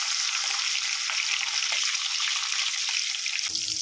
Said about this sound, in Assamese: এতিয়া মাছখিনি ইয়াত ফ্ৰাই কৰি ল'ব লাগিব এনেধৰণে